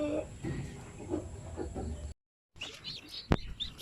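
Newly hatched Shamo, Aseel and Zampen native chicks give faint, scattered chirps and peeps close by over low background noise, broken by a brief silent gap before a few sharper calls.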